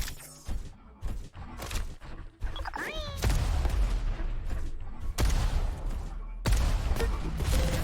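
Rocket launcher fire and explosions in a Diabotical duel match, a burst of sharp impacts followed by dense, loud sustained blasts and combat noise, with no talk.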